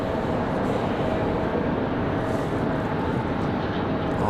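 A Frontier Airlines jet departing Raleigh-Durham for Atlanta produces a constant, dense engine roar mixed with windy rumble, holding steady throughout without voices.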